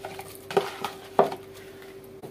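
Chopped vegetables dropped into a cooking pot, landing as two brief, distinct clatters about half a second apart over a low, steady kitchen hum.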